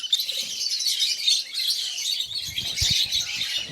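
Lovebirds in an outdoor aviary keep up a continuous bright chorus of high chirps and tweets, fairly close, with some soft low thumps and rustles from the birds moving toward the end.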